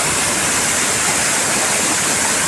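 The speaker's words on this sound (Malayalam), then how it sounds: "അങ്ങ് മേളിൽ നിന്നാണ് കേട്ടോ ഈ വെള്ളച്ചാട്ടം വരുന്നത്." A forest waterfall pours down from high above during heavy monsoon rain, a loud, dense, unbroken roar of rushing water filling the whole clip.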